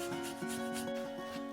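An orange being zested on a grater, rasping in steady back-and-forth strokes, close and fairly loud with no talking.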